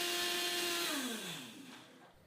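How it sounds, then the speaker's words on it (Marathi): A mixer grinder churning soaked moong dal gives a high motor whine that winds down in pitch and fades toward the end, with nobody speaking. "ही डाळ मिक्सरला जेवढी शक्य आहे तेवढी बारीक स्वरूपात दळून घेऊयात"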